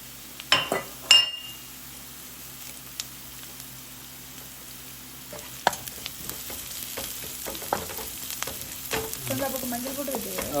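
Curry leaves sizzle and crackle in hot oil for a dish of ponnanganni greens, a steady close frying hiss broken by occasional clinks of a utensil against the pan.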